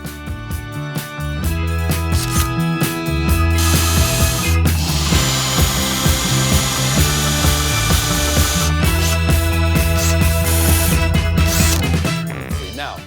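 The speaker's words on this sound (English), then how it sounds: "I'm gonna drill only as deep as my drill bit is thick here at the end" A power drill whirs loudly and continuously up close, its pitch shifting as the bit bores into a wooden dowel, with brief pauses between holes.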